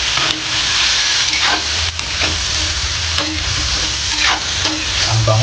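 Radish and carrot sautéing with chorizo for ginisang radish and carrot: a steady, loud sizzle with repeated scraping stirs of the spatula and no talk.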